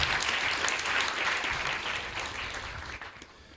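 Audience applause fills a temple hall during a Sunday community gathering, a steady dense wash of many clapping hands that holds strong before tapering slightly toward the end.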